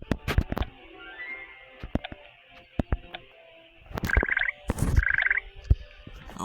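Chocolate frog croaking in the Hogwarts Mystery video game, a couple of short ribbed croaks near the end amid scattered game clicks and effects, with no talk.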